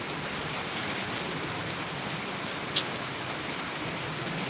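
Heavy rain falls in Tirunelveli as a steady, dense hiss of water pouring down, unbroken throughout, with one brief sharp tap or drip standing out near the middle.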